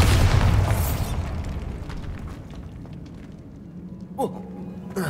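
A Bombarda spell blasts in the Hogwarts Legacy video game, a loud booming explosion at the start that rumbles and fades over several seconds, followed by a few small crackles and a brief whoosh.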